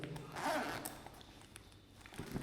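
Zipper on a BMW G 310 GS motorcycle tank bag being drawn briefly, a soft close rasp over quiet room background.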